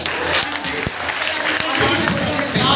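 Dense, loud applause from a live audience at a Hindi comedy poetry recital, continuous clapping filling the whole moment without a break.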